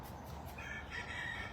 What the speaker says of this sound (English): But even the chickens are coming, bro.